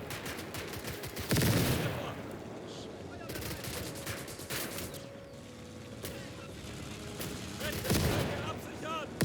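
Mortar and gunfire from the video game Call to Arms: Gates of Hell, heavy booms at the start and again near the end, with scattered shots and rumble in between, under faint talk.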